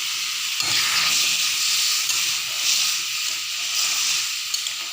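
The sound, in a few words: tempering spices sizzling in hot oil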